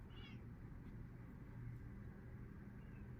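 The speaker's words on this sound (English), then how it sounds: "My cat is meowing at the door." A male cat meowing at the door, a faint short cry near the start and another soft one near the end, over a steady low background rumble, no talk.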